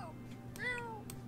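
A gruff, fairly deep cat meow from The Sims 4 rises and falls in a single drawn-out call, close and clear over a faint background hum.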